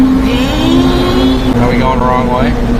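Supercharged mini-truck accelerating at full throttle, a steady engine drone with rising whine heard from inside the cab, people talking over it throughout.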